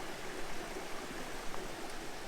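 An off-trail creek flows near a waterfall, giving a steady, even rush of water that holds at a moderate level throughout with no voices.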